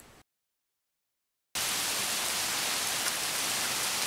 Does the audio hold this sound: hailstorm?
yes